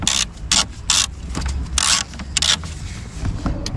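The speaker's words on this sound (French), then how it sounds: "Alors là vous allez prendre un embout de 10 pour dévisser cette vis là." A ratchet fitted with a 10 mm socket unscrews a screw on a Renault Kangoo while the windscreen washer pump is changed, giving several short bursts of rapid clicking close up over a low background hum.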